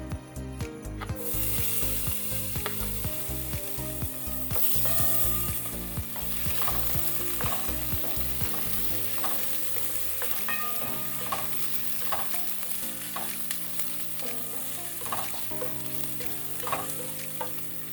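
Ginger frying in a pan for a tomato fish stew (totsong isda), with a continuous close sizzle and a busy rhythm of spatula scrapes and stirring knocks throughout, with no voices.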